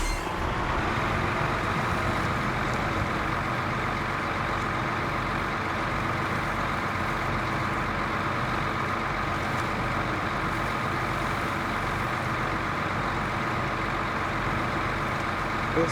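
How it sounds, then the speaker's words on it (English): A truck engine compared to a Caterpillar dump truck runs as a steady, loud, continuous low rumble with constant drone and no speech throughout. "This truck sounds a whole lot like the Caterpillar dump truck."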